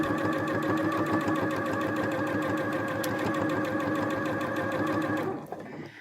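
A sewing machine top-stitches fabric on a pork pie hat, running in a steady close, loud, even mechanical hum for over five seconds before winding down and stopping.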